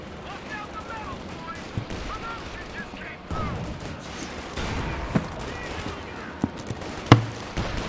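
Panzerfaust blasts and rattling gunfire from a Company of Heroes 2 World War II battle, with sharp explosive bangs standing out over a steady bed of combat noise and scattered impacts.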